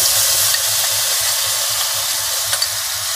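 Spice paste of coriander powder, garam masala and turmeric mixed in water goes into a hot pan for paneer pasanda gravy, giving a loud, steady hiss and sizzle with faint stirring clicks.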